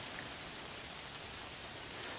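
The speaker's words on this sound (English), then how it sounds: "It's raining, so bear with me." Steady rain patters on canvas tents at a Boy Scout summer camp, forming a dense, even hiss of drops with no talk over it.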